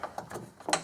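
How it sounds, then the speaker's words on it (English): A ratchet with a wobble socket works on a 2010-19 Dodge Ram 5.7L Hemi engine during a thermostat replacement, a few quick faint clicks in an uneven rhythm with a brighter final click. "it's the first time I've used this wobble socket."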